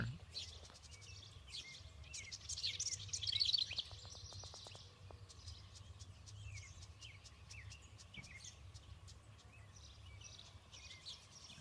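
Wrens chirp in quick high trills and tweets outdoors, with faint insects and a low background hum; a brief fluttering burst rises midway.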